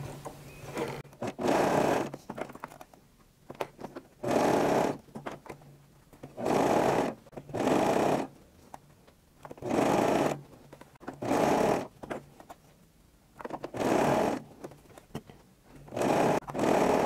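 A sewing machine runs a zigzag stitch along lycra bra elastic in repeated short bursts of about a second each, separated by brief pauses, close up and steady, with no talking.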